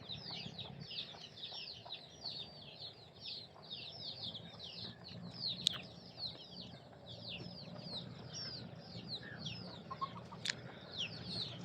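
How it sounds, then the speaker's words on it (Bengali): Free-range chickens and chicks on a farm cluck and cheep steadily in a soft, continuous chorus, with a few brief louder peeps and faint background noise. "দেখুন মুরগির বাচ্চাগুলো চড়ে বেড়াচ্ছে"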